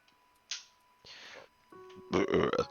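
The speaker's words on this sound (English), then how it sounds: "I think it's the first burp of the stream" A person burps during a casual art livestream chat. Several short vocal bursts come close to the mic, then a louder, longer voiced burp near the end, with no speech over it.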